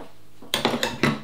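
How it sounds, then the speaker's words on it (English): A baking dish holding hot cross bun loaf dough set into a switched-off oven above a tray of boiling water, giving a few close clinks and knocks of dish against metal rack. "Put your dish with your dough in above it."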